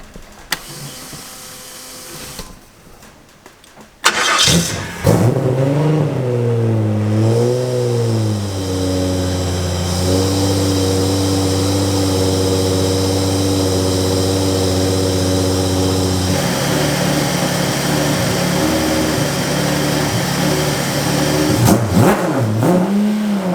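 A wingless sprint race car engine cranks over, catches, and roars to life, then revs up and down in waves before settling into a loud, steady idle close by.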